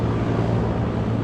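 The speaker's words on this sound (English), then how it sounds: "Loud air conditioner." A loud outdoor air conditioner unit runs beside a pool, giving a steady, close, broadband whirring drone with a low hum and no pauses.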